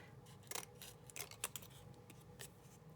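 Scissors cut paper for a pretty paper pockets craft: a quick series of crisp snips and slicing strokes in irregular rhythm, close up and quiet in a still room.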